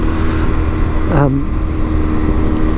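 An Aprilia Tuareg 660 motorcycle engine blips its throttle once, the pitch rising sharply and then falling back, over a steady loud engine drone and wind rush.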